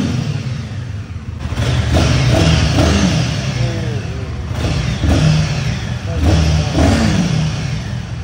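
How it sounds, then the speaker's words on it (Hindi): A Royal Enfield Himalayan motorcycle engine revs close by, with several throttle blips rising over a steady idle, amid street noise and some talk. "बट भाई जो ये बाइक है बहुत ह्यूज है अपनी हिमालयन, तो इसकी हम आवाज़ सुनेंगे।"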